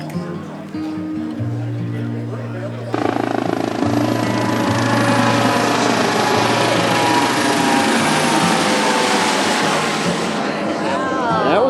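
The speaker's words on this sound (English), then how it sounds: "Helicopter." A tour helicopter flies overhead in Charleston, South Carolina, its loud rotor thrum and turbine whine building abruptly and holding steady; people talk over it at the start.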